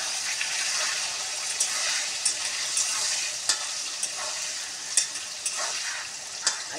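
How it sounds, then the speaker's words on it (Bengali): Diced potatoes fry in hot oil tempered with cumin seeds, bay leaf and dried red chilli, giving a steady bright sizzle broken by sharp crackles and occasional stirring scrapes, close and continuous with no talking. "ওর মধ্যে এবার আলুটা দেবো,"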